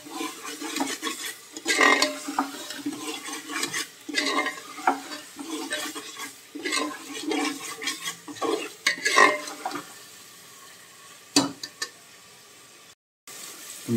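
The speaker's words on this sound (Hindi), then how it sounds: "मसाले को हम अच्छी तरीके से भून लेंगे, मसाले में से तेल बाहर आ जाना चाहिए बिल्कुल।" Spice masala for mutton masoor dal gosht frying in oil in a pot, with a spoon stirring and scraping repeatedly in an uneven rhythm over a steady close sizzle, and occasional metallic clinks against the pot.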